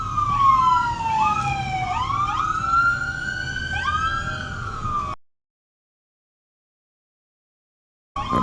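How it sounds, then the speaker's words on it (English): Police car siren wailing loud and near, its rising and falling sweeps layered over engine and road rumble for about five seconds, then cutting to silence before briefly returning at the end. "keep your sirens on."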